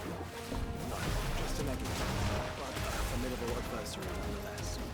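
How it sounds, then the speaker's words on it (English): A shotgun fires in the video game Final Fantasy XVI, with heavy blasts and crashes packed into a dense, loud stretch of combat noise that continues for several seconds. "this is a shotgun"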